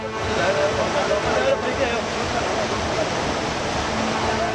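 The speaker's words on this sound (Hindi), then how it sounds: "पानी का बहाव जैसे ही और थोड़ा तेज हुआ, वैगन आर भी पानी में तैरने लगी" Fast-flowing floodwater after heavy rain, deep enough to float a Wagon R car, rushes in a loud, steady roar of churning water that never lets up.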